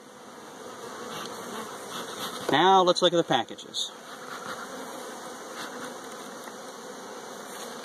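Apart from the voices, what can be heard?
honey bees buzzing around beehive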